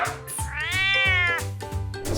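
A cat lets out one long, drawn-out meow that swells and fades, clear and close, over a cheerful children's music track with steady beats.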